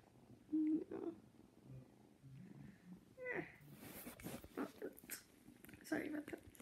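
A little blue-eyed kitten purrs close up, a soft rumbling hum that carries on under a person's quiet talking and some rustling while the kitten nibbles.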